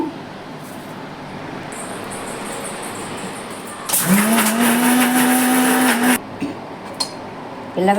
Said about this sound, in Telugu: ధనియాలు నువ్వు పప్పు అన్నీ మిక్సీలో వేసేసుకుని మిక్సీ వేసేసుకోవాలి